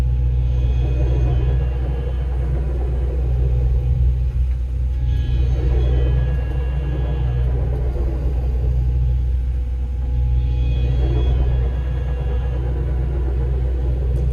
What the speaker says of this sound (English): I think that's gearbox, you know.